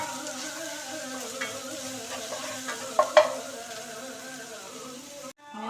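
Ginger-garlic paste sizzles steadily in a hot pan while a spoon scrapes and stirs it, with a few sharper clinks near the middle and a sudden cut at the end; nobody speaks.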